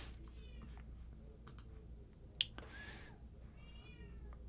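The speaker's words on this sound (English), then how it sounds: "the cat, yes, the cat is, if you're wearing headphones, the cat is meowing" House cat meowing faintly in a quiet room during a live guitar-and-gear chat, a few soft drawn-out calls near the start and end, with a sharp click and scattered small taps in between.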